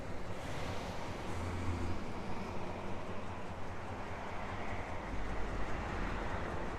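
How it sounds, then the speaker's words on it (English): A 1969 Chevrolet Caprice with its original 350 V8 gives a steady, low exhaust rumble that holds evenly throughout, with no voices over it. "And we hear the exhaust tone."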